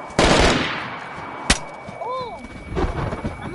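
Zombie video game gunfire: a loud automatic burst opens, a single sharp shot cracks midway, then ragged firing picks up again near the end, close and punchy.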